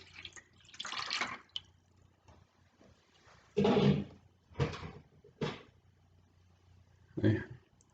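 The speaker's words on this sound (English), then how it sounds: "Put some water in." Water poured into a pan gives several short splashing bursts of varying strength, separated by brief quiet gaps.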